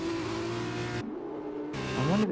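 An F1 2021 video game race car revs under throttle in a Formula Racing League F2 race at Bahrain, a high whining engine note that cuts out briefly, then returns and climbs sharply, close and moderately loud.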